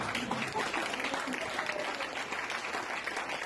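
A church congregation at an evangelical service applauds steadily, a dense, even wash of clapping that holds for several seconds without a break.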